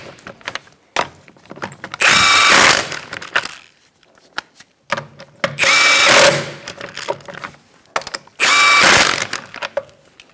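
A power tool tightens the wheel lug nuts on a 2004-2009 Mazda 3 during rear wheel bearing and hub work. It fires in three loud rattling bursts of about a second each, with quieter clicks and handling noise between them.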